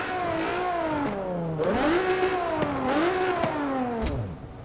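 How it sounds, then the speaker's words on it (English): A Volkswagen Scirocco engine in the video game Forza Motorsport 7 revs up and down repeatedly in smooth rising and falling sweeps, loud and continuous, with a few sharp clicks along the way. "Now you hear the engine."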